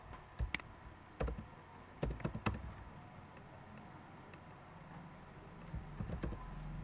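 Keystrokes on a computer keyboard while working on a Ruby on Rails HTML file, a few separate clicks and short bursts of taps scattered over quiet room tone, close and fairly soft with no talking.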